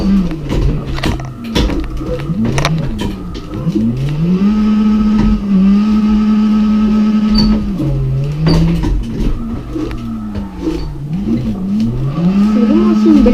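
Drift car engine in CarX Drift Racing on PlayStation revving up and down repeatedly, rising and falling pitch sweeps from a loud, close engine that holds high revs between brief drops, with a voice talking over it.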